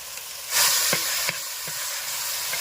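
A ground chili and coriander paste hits a hot frying pan and bursts into a loud hiss, then settles to a steady sizzle with a few small clatters and no speech.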